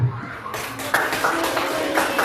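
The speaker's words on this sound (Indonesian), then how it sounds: "kita beri tepuk tangannya ya, sekali lagi untuk Ibu Pri dan Ibu Kepala" Brief audience applause for Ibu Pri and Ibu Kepala at a school event, a patchy burst of hand claps from a nearby group with scattered sharper individual claps.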